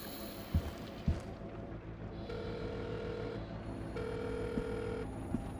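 A telephone rings in the video game Eternal Threads: two long electronic ring bursts separated by a pause, heard over a low room hum with a few soft knocks.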